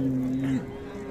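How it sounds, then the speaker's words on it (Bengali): A Frisian dairy cow at Raniganj cattle market in Dinajpur gives a short, low moo lasting about half a second, then falls quiet against a soft background murmur of the market. "সুন্দর সুন্দর তলাবাটের গাভী"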